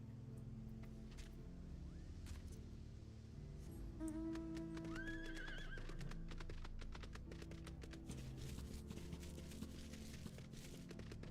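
A horse in a fantasy video game gives a bright whinny midway through, amid a rapid stream of hoof clip-clops and tapping steps, all fairly faint.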